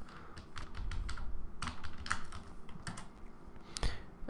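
Fingers type on a computer keyboard in steady bursts of crisp, close key clicks, with short pauses between runs of strokes and no talking.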